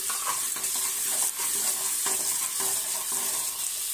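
Three finely chopped medium onions fry in a hot pan with a steady, close sizzle, broken by regular scraping stir strokes across the pan and no talking.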